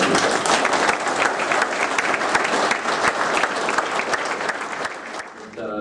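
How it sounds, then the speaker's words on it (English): At a Zenith aircraft builders dinner during AirVenture 2012, a crowd applauds Roger with lively, dense clapping that holds strong for about five seconds before easing off, a few voices mixing in near the end. "A round of applause for you."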